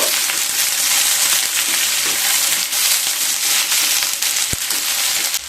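Chopped raw tomatoes frying in hot oil in a pan for a tomato jhal, a steady dense sizzle close up throughout, with faint stirring scrapes and one sharp utensil knock near the end.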